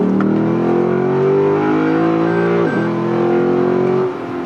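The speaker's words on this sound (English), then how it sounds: "Nothing beats the throttle response and the drivability of a naturally aspirated V8." Lexus naturally aspirated V8 engine revving up loudly and close, pitch climbing steadily, briefly dipping on a shift, then rising again before cutting off.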